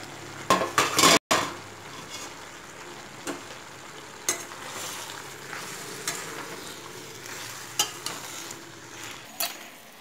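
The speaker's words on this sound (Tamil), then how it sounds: "4 கொத்து கருவேப்பிலையை சேர்த்து அதையும் கலந்து விடுறோம்" Curry leaves stirred into tomato chutney in a pan, giving a steady close sizzle and fry under scattered spoon scrapes and clinks against the metal, with a few sharper knocks and no talking.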